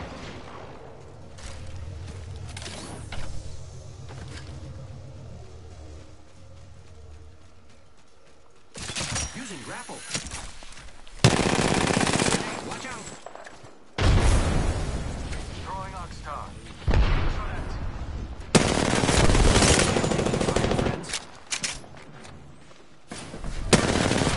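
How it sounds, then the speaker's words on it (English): Video game gunfire aimed at a cargo bot during a match: dense, loud bursts of shots in rapid clusters broken by brief gaps, growing heavier in the second half, with no voices. "shooting a cargo bot."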